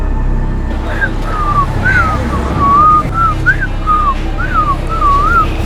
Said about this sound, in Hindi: उसको देख के सीटी नहीं बजाई, वैसी सीटी बजा रहा हूँ।